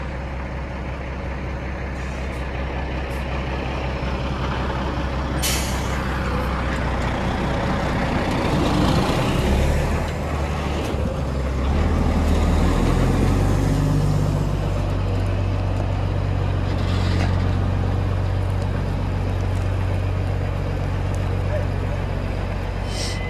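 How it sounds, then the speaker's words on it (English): A tractor trailer truck loaded with beans runs loud and close with a deep engine rumble, building in intensity over the span with a sharp air-brake hiss partway through. "Another tractor trailer load full."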